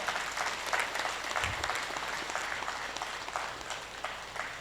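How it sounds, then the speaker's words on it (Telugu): An audience at a Pyramid Spiritual Trust gathering in Hyderabad claps loudly for a spiritual teacher, a dense, sustained burst of many hands filling the hall without any voices. "గట్టిగా చప్పట్లు కొడదాం ఆయనకి."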